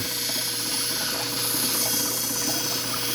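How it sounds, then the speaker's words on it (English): A grinding wheel cuts a bevel into a rock, rounding off its edges: a steady, loud, continuous rasping grind that holds unbroken throughout, with no voices. "start cutting my bevel down. And that starts rounding off the rock."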